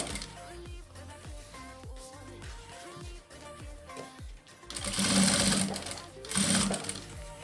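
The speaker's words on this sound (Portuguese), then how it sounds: "Vai alinhar bem e passar uma costura aqui para rebater" Sewing machine topstitching translucent plastic bias binding on a plastic box-style zip pouch, a close steady mechanical whir with rhythmic needle ticks, swelling louder in two bursts near the end.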